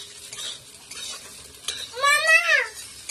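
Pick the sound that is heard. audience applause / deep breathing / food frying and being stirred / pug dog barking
food frying and being stirred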